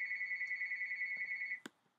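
A telephone rings with a steady electronic trilling tone that pulses continuously, then stops abruptly with a click as the handset is picked up, moderately loud and alone in a quiet room.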